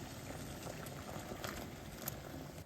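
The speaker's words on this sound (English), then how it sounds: "Put the pot on high and wait for it to boil." A pot of water boils on the stove for pasta noodles, a dense steady bubbling and popping heard up close and softly, with no voices.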